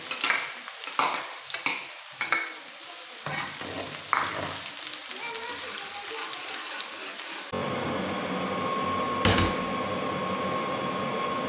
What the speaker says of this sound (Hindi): प्याज को ब्राउन नहीं करेंगे, सिर्फ हल्का सा सौते करेंगे इनको।